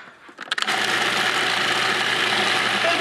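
A blender starts with a few stuttering pulses, then runs at a steady, loud, high whir as it purees a garlic and Worcestershire sauce mixture in a home kitchen.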